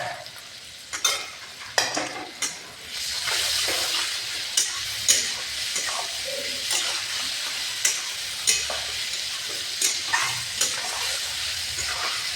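Onion, potato, ginger paste and garlic paste sautéing in a pan: a steady oily sizzle runs throughout, broken by repeated scraping stirs of a spatula, close and fairly loud.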